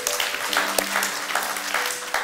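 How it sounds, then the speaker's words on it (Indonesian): A church congregation at an Easter service claps in fairly dense applause, moderately loud, while faint sustained musical tones hum underneath. "Berikan tepuk tangan bagi dia."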